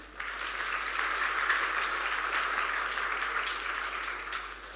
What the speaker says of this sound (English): A round of applause for just making it here.